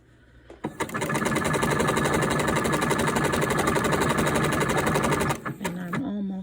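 A sewing machine stitches a sleeve on a quilted sweatshirt coat, running at a fast, even buzz for about five seconds. It then stops, and a few soft handling sounds follow.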